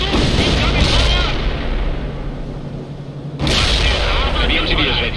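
Incoming artillery fire in the World in Conflict strategy game: dense, loud rumbling bursts and booms run throughout, dipping briefly before a sharp renewed impact, with a radio-style voice heard over the barrage.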